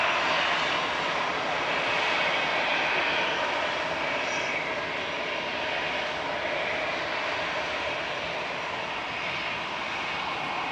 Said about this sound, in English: Helvetic departing next. E190 heading back to Zurich for Swiss.